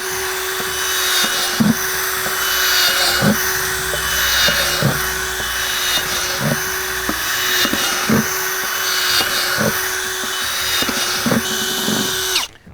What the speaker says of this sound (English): we're going to drill about 6 to 8 5/16 holes into the bottom of our bin